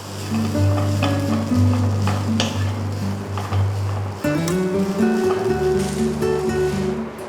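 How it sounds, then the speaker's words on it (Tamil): Grated coconut with curry leaves and red chilies dry roasting in a pan, a steady low scraping and stirring hiss running throughout, with a brief clatter midway before the stirring resumes. "அடுத்தது துருவி வச்சுருக்க தேங்காயும் வறுத்துக்கலாம்"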